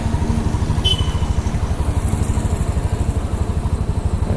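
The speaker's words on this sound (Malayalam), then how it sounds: "ഇതാ ഹോണ്ടയുടെ സി ബി ഫോർ ഹൺഡ്രഡ്" A Honda CB400 four-cylinder motorcycle idles close by with a steady, even, rapid engine pulse.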